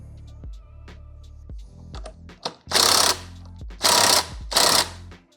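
Ratchet runs the flywheel nut onto a scooter stator for a Malossi kit: scattered light metallic clicks, then three loud, close bursts of rapid ratcheting or rattling, each about half a second long, with no voices.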